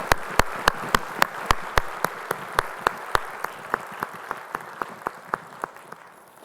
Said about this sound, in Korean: 우리 찬양 한 번씩 주님께 영광의 박수 올리겠습니다.